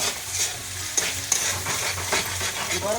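Egg frying in oil in a pan while a spatula stirs and scrapes it, a steady close sizzle with repeated rhythmic scraping strokes and occasional sharp clicks of the utensil.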